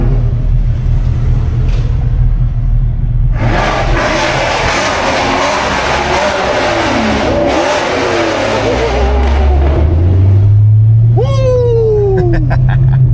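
A Chevrolet Camaro SS in track mode rumbles loudly at close range, surging into a long roaring rev, then drops back before a second engine climbs with rising pitch toward the end.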